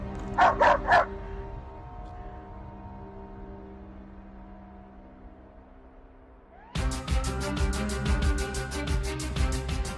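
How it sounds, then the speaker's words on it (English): A police dog on a night shift barks three sharp times, then falls quiet. After a pause it launches into a rapid, loud, rhythmic run of repeated barks close by, with no speech. "a canine crime fighter's bite is worse than its bark"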